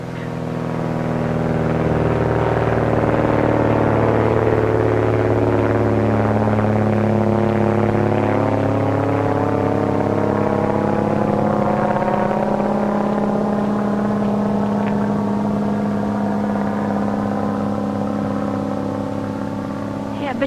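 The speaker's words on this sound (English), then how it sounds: "That plane's in trouble." A propeller airplane drones overhead in a 1946 serial, its engine tone loud and steady for the whole stretch, pitch slowly shifting as it circles, with no one talking over it.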